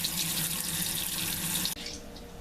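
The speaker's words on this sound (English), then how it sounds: "So just going to rinse it down with a little bit of cold water so I can touch it," Cold tap water pours steadily into a sink to rinse strained eggplant, a loud, close, even rushing stream that cuts off abruptly near the end, leaving a softer trickle.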